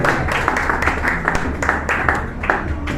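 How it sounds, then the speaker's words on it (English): A crowd applauding steadily, dense overlapping claps filling the space at a fairly loud level without pause. "Please, a round of applause for her."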